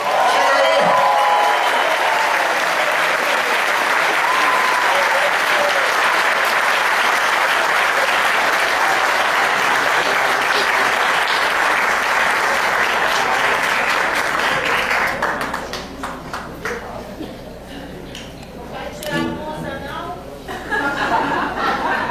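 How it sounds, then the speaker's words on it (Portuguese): A live audience at an MPB concert applauds warmly, with dense, loud clapping and some laughter running steadily for about fifteen seconds before thinning into scattered claps and crowd murmur. "Eu queria aplausos calorosos para minha galera."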